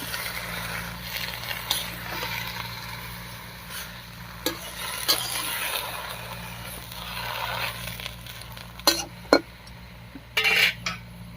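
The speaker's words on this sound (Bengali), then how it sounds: "এবার একটু নাড়িয়ে নিয়ে ঢাকা দিয়ে সিদ্ধ করে নেব" Whole pumpkin leaves are stirred in a cooking pan, with a faint sizzle under the soft scraping of a utensil and a few sharper clinks against the pan.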